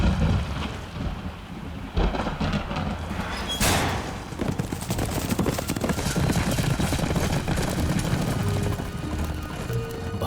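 Racehorses galloping in a race through heavy rain: a dense, continuous rumble of hoofbeats blends with steady downpour and thunder, loud and unbroken throughout.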